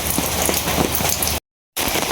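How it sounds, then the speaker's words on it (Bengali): Heavy rain falls steadily on surfaces, a loud dense patter, broken by a brief dropout of silence before it resumes. "বৃষ্টি বাদল থাকলে আপনার ভালো লাগে না কোনো কিছু।"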